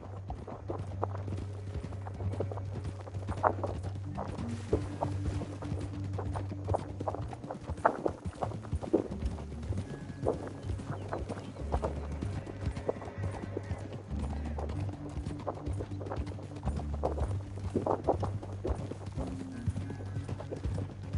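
Steady clip-clopping hooves of a horse walking in the video game Red Dead Redemption 2, with an occasional whinny, over a low constant hum and some faint voices in the background.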